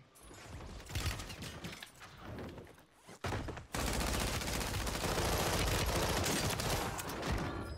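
Rapid, dense gunfire in Call of Duty on Rebirth Island rattles almost nonstop in loud, overlapping bursts, with a brief drop in the middle before an even heavier, sustained volley.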